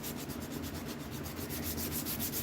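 Quiet, rhythmic back-and-forth rubbing of sandpaper along a knife blade, quick even strokes repeating steadily throughout.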